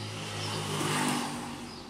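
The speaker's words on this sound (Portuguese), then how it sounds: "aqui é carro da casa da minha avó" A car engine at a grandmother's house revs up, swelling to a peak near the middle and easing back down as a low, throaty rumble, with no voices over it.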